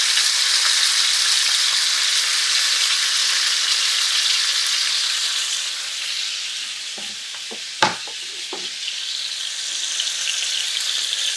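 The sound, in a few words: chicken breasts browning in a pan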